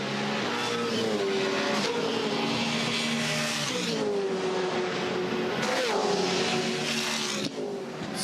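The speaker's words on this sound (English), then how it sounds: "Sound of these cars in the background is just awesome." V8 Supercars race cars at the 2015 Bathurst 1000 roar past in a loud, continuous engine howl, rising and falling in pitch as cars pass and shift gears, with no talk over it.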